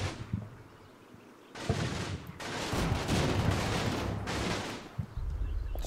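Gunfire and explosions in a Second World War battle video game erupt in bursts of overlapping rifle shots and booming blasts, loud and dense, with short quieter gaps between volleys.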